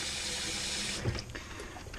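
Tap water runs steadily into a kitchen sink as it fills for washing starch off food, a continuous close hiss with a brief splashy change midway.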